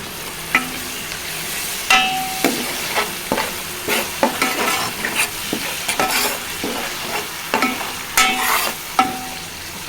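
Two spoons of ginger garlic paste fry in a pan for a fish curry, a loud close sizzle punctuated by regular scraping and tapping strokes of a stirring spoon, with no talking.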